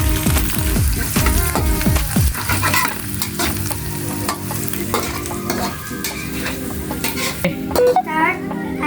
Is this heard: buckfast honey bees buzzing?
no